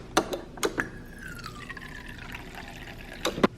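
Water poured from a quarter-cup measure into a chocolate chip mixture, a soft trickling pour under sharp clinks of a utensil, fairly close and quiet.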